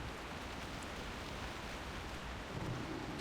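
Warlock Hellfire and Rain of Fire area spells in World of Warcraft: The Burning Crusade Classic, a dense continuous roaring, crackling rumble like heavy rain and thunder, steady and loud throughout, no talk.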